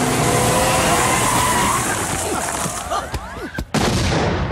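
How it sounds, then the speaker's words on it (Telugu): A bomb blast effect in a Telugu comedy film scene: a loud, dense rushing roar with crackling debris, tailing off into a few sharp bangs near the end. "బాంబ్ బ్లాస్ట్ होता है."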